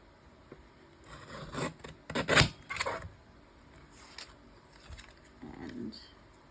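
Paper for a stamped card is trimmed with quiet, close rasping strokes that come in short irregular bursts, loudest near the middle, with soft rubbing in between.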